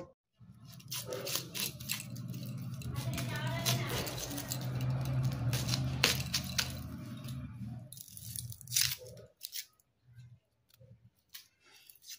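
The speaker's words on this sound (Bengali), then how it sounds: "এবার আমি ভোলা মাছের জন্য পেঁয়াজটা কেটে নেব" A knife cuts an onion for a Bengali bhola fish curry, giving a run of close crunching and slicing strokes that thin into sparse separate cuts toward the end, with no talking.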